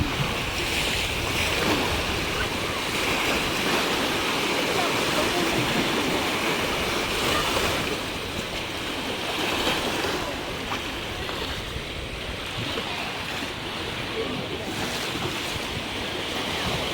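Sea surf at Laurel, Batangas, a steady broad wash of waves rolling in continuously, mixed with wind buffeting the microphone, fairly loud throughout with no clear speech.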